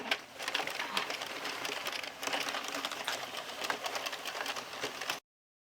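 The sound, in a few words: knitting machine running rows on a flat panel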